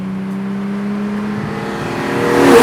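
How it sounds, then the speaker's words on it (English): A Ferrari 275 GTB V12 engine with six carburetors hums steadily while driving, then its pitch climbs as the revs build toward the end, growing louder with a rising whine. "You really can feel the power in the motor climb as you use more revs."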